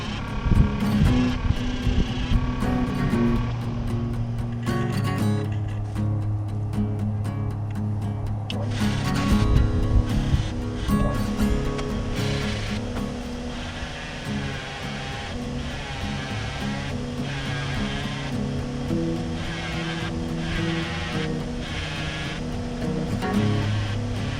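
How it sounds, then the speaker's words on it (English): A polishing wheel buffs a part for a Honda CB750 Hondamatic cafe racer, giving a continuous loud motor whine and rushing hum. Pitch and pressure shift as the part is worked, and the sound runs on without speech. "So time to throw her on the polishing wheel and get her shined up"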